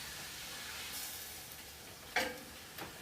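Lean ground beef browns in a pan with a soft, steady sizzle and hiss, broken by a couple of brief clinks of a utensil stirring.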